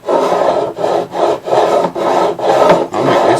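A fret beveling file strokes back and forth along guitar fret ends, a rhythmic rasping scrape of about seven even strokes with short pauses between, close and loud with no voices.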